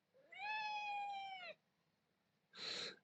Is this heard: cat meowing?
yes